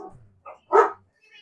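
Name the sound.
dogs barking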